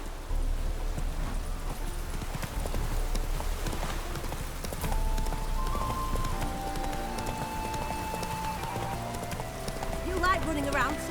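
Roach the horse gallops through The Witcher 3, its hooves drumming in a steady rapid clip-clop over game music and ambient sound, with a voice speaking over it.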